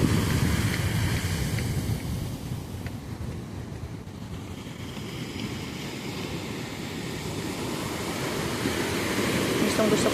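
Rough sea waves wash onto a Zambales beach in a steady rushing surge, swelling and easing, with wind buffeting the microphone.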